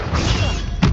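A Stupefy spell strikes its target in the video game Hogwarts Legacy, heard as a single dull thud-and-crash impact near the end, sitting over continuous game ambience.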